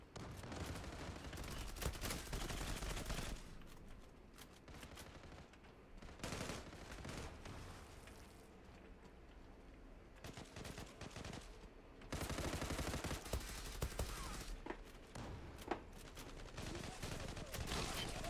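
FN FAL rifle fire in the online shooter Zula: loud, rapid bursts and sustained volleys of gunshots with brief gaps between strings of fire, continuing densely throughout.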